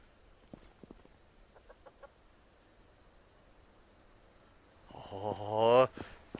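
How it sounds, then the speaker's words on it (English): Chickens cluck in the survival game Subsistence, with a few faint clucks early on and then a louder, drawn-out squawking call near the end over a quiet background. "Oh, chicken."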